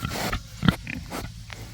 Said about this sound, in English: I don't know the last time that y'all saw these pigs.